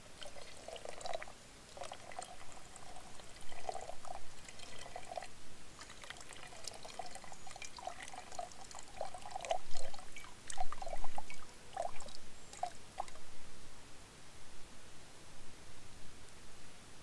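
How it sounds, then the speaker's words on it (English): Cold water poured and sprinkled into a pot of camp coffee at an outdoor campsite: a steady splashing trickle running throughout with uneven surges and gurgles, close and moderate in level, no talk. "Putting that cold water in there, sprinkling it on top just a little bit"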